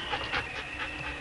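An injured dog with cut feet from crusted snow pants in quick close breaths, with faint whimpering mixed in over a brief moment.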